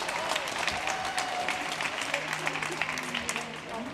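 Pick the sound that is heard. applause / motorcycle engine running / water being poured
applause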